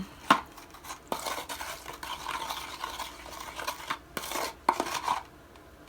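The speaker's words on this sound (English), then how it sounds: "And I'm going to stir it up." Hydrogen peroxide cleaning mixture stirred in a container, with a spoon or utensil scraping and clinking against the sides in irregular bursts, close and fairly quiet with no talking.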